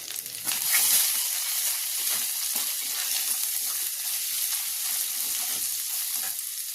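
A spiced cauliflower mixture with chilli powder, salt and sugar is stirred as it fries in a pan, producing a steady, close sizzle with soft scraping and shuffling from the stirring throughout.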